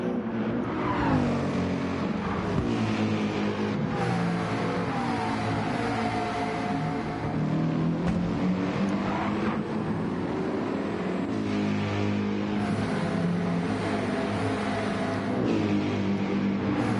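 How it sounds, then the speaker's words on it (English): Race cars in Gran Turismo 7 roar out of a tunnel at Deep Forest Raceway, a dense, continuous engine drone with rising revs and overlapping cars, loud and steady throughout with no voices. "Listen to these cars as they exit the tunnel for the 17th time in this race."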